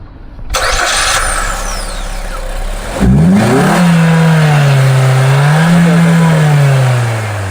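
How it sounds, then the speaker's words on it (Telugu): A Maruti Victoris ZXI+ with a 1500 cc petrol engine cranks and starts close up, catching with a brief rev before settling into a smooth idle that rises and dips slightly, loud and alone. "ఇంజన్ సౌండ్ అయితే చూద్దాం."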